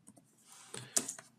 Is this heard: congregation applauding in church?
no